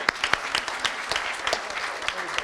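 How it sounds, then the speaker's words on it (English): An audience at a regional talent pipeline signing day event applauds, a dense, steady wash of many hands clapping with sharp individual claps standing out near the front, continuing throughout. "You can applaud for that."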